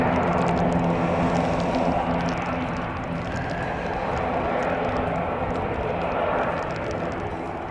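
A Qantas airliner, flight QF 167 from Melbourne, roars steadily and fairly close, its broad engine rumble holding for several seconds and easing slightly toward the end.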